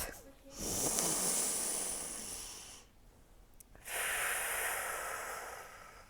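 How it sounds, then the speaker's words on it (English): Slow, deep breaths drawn in and let out during a calm yoga session for young students, two long airy inhales and exhales close to the listener, separated by a brief quiet pause. "Let's begin with a nice deep breath."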